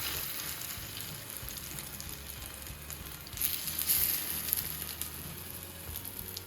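Oil sizzles steadily in a cooking pan, a soft continuous hiss that swells briefly midway before settling back to a low, even crackle.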